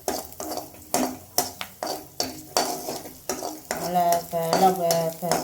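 Leaves sautéed in a pan are stirred with a utensil, giving repeated sharp scrapes and clanks in an uneven rhythm over a soft sizzle, with a brief spoken comment near the end.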